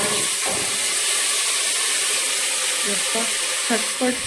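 Steady, hissing sizzle of food frying in a pan in a home kitchen, continuous and fairly loud, with faint clinks and a few soft scrapes toward the end.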